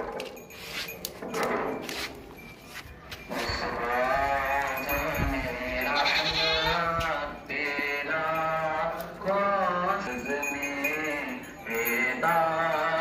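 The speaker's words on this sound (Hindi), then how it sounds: "मक्खी चीना प्योर देसी बकरा है" Makhi Cheena desi goat, a pure-bred male over ten months old, bleating repeatedly at close range with long, wavering cries and brief pauses between calls.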